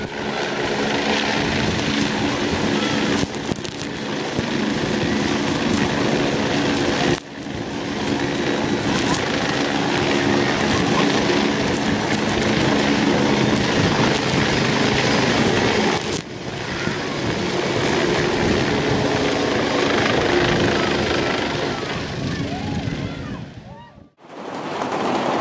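A firefighting helicopter roars continuously overhead, its rotor and engine noise thick and loud, with a rushing water-like wash underneath before it cuts off near the end.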